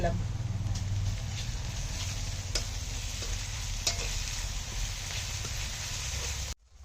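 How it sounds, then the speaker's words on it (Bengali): Onions fry with ginger and garlic paste in a pan, a loud continuous sizzle with occasional scraping stirs, with a voice talking over it. "পেঁয়াজটা ভাজা ভাজা হয়ে গেছে এখন আমি আদা আর রসুন পেস্ট দিয়ে"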